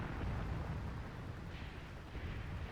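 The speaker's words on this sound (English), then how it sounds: "they're targeting us with mortars though, and we don't have a lot of cover against that" Mortar rounds land in Graviteam Tactics during the Second Battle of Kharkov, giving a continuous, muffled rumble of explosions that stays fairly faint and steady with no voices.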